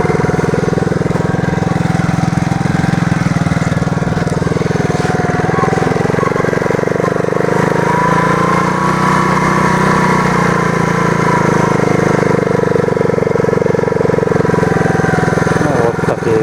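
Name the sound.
moped engine running while riding through forest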